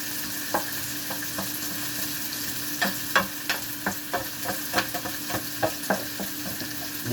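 Onion and garlic sautéing in a pan for spicy beef offal adobo, a steady close sizzle broken by repeated sharp scrapes and clicks of stirring.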